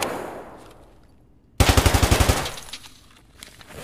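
Rapid automatic gunfire from an M1A rifle in the video game Escape from Tarkov, a loud, close burst of about eight sharp shots in quick succession after a near-silent lull, followed by fading echo and faint background noise.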